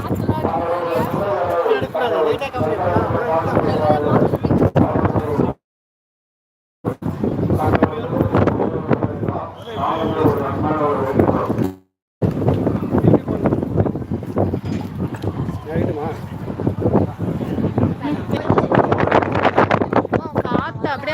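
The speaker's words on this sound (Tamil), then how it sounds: "சரியான காத்து" Strong wind at a hilltop temple blasts into the microphone as a continuous loud roaring buffet, broken by two brief dropouts, with people talking underneath.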